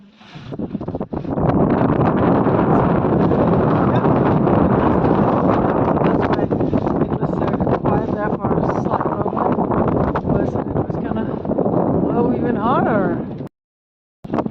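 Strong wind buffets the microphone on a singlehanded sailboat under mainsail alone, a loud continuous roar with gusty rustling that holds steady for most of the stretch, then cuts out briefly near the end.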